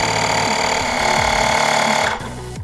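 A YANTU double-cylinder electric air pump runs indoors with a steady, loud mechanical buzz and rattle, then its pitch and level drop sharply near the end as the load changes.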